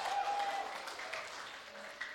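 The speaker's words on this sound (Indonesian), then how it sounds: "Kasih tepuk tangan dulu buat Cahyudi." Audience applause at a church retreat session, a steady broadband clapping wash at moderate level over about two seconds, with a faint tone and some background voices mixed in.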